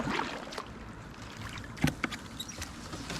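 Kayak paddling through sway grass in shallow water, soft continuous rustling and swishing with a few sharper splashes and knocks partway through, close and fairly quiet with light wind noise.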